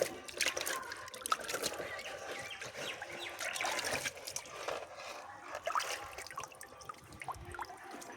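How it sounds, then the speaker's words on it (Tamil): Banana leaves are washed outdoors with water, giving continuous close splashing, trickling and dripping with scattered wet slaps. No voices are heard. "கழுவியாச்சு வாழை இலையை."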